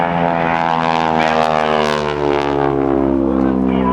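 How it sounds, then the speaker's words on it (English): Heavy propeller engines of a B-25 Mitchell bomber drone loudly and continuously with a steady throbbing roar, close up. "The B-25 Mitchell bomber, that first of the multi-engine airplanes built by North American"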